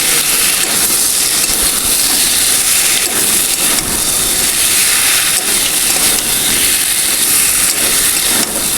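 Raw banana and potato pieces, fried earlier, stir-frying in a spice paste in a pan: a loud, steady, continuous hiss and sizzle, close by, with no talking.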